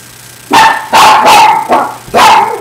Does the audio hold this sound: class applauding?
no